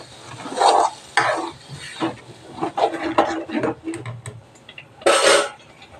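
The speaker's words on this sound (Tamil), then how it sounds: "இப்போ தக்காளியெல்லாம் நல்லா வதக்கிட்டு வருங்க." Tomatoes sauté in oil for an okra kulambu, with a low sizzle beneath loud, repeated spatula scrapes and stirring strokes against the pan.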